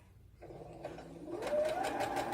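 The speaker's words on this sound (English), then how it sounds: "I am top stitching" A sewing machine topstitches a fabric toddler bag, starting slowly and then speeding into a steady, close mechanical whirr with rapid needle clatter that rises in pitch as it runs.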